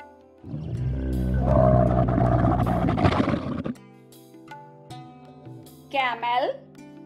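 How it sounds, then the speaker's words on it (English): A camel gives a deep, guttural groaning bellow that rumbles for a few seconds, then a brief, wavering higher call follows after a quiet gap. "Camel,"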